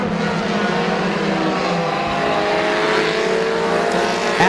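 Race cars at Midvale Speedway's Fall Classic roar together at close range, a dense, steady wall of engine noise with rising and falling pitch as the pack battles, loud and unbroken throughout.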